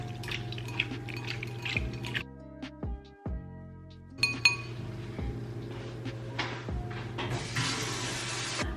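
Shrimp and sausage being tossed together in a bowl by hand, with wet clinks and squelches of glass and utensil, irregular and close, no talking.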